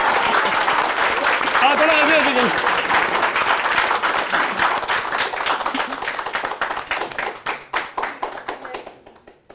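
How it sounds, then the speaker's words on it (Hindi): A studio audience breaks into loud, sustained applause at a health talk show, dense clapping that thins into scattered individual claps and stops near the end, with a brief voice under the start. "जोरदार ताली"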